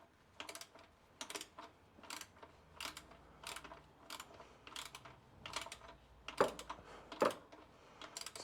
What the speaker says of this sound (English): Gone down to the smaller 3/8 drive ratchet actually.